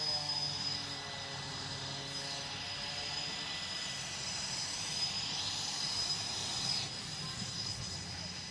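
A Super Hornet "Rhino" jet warms up its engines at an air show, a steady broad roar with a high whine held throughout, heard from some distance as continuous droning.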